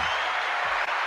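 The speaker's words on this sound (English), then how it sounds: "I'm gonna clap myself." Brief, dense clapping from a man applauding himself, a short burst of broadband hand claps with no talk over it.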